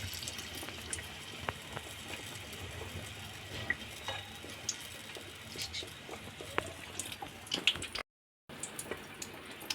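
Tomato bhajiya pakoras fry in hot oil with a faint, steady sizzle and scattered small crackles and pops throughout.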